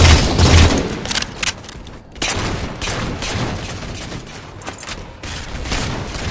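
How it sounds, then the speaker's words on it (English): A concussion rifle firing in Halo 4 Infinity Slayer multiplayer produces heavy, booming shots in quick succession over dense battle noise, loud and close throughout. "Concussion rifle."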